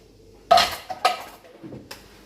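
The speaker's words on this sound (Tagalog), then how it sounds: "So, pinggan ko lang ang aking ililigpit." Plates and cutlery clink and clatter up close as dishes are cleared after a meal, in a few distinct bursts against near silence.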